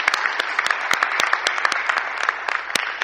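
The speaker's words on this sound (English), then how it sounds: "I'd like us to just rise and give them a rousing round of applause for an excellent job." A graduation audience rises to applaud a university cultural troupe, with loud, sharp individual claps popping out over a continuous bed of clapping, close and vigorous throughout.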